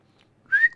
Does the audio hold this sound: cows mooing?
no